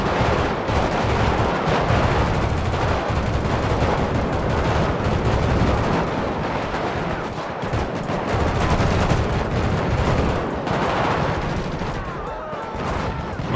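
Rifle gunfire in a GTA V gang war, sustained rapid bursts of shots that nearly fill the whole stretch, loud and dense with brief lulls, no talking.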